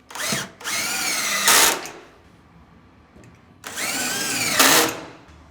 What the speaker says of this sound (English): We can just drill these 2 here and put the other screws in.